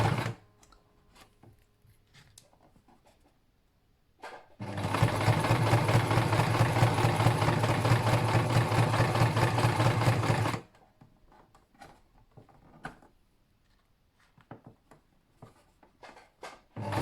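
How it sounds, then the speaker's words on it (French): A sewing machine stitches back and forth across a triple-layer fabric mask, a loud steady mechanical whirring with a fast stitching rhythm for about six seconds, framed by quiet clicks and fabric handling. "je pique, je tourne et je fais de la couture avant-arrière"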